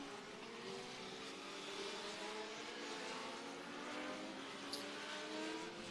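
Street stock race cars run practice laps at a speedway oval, their engines a steady, distant roar of several cars circling, with revving and occasional tire noise but no speech.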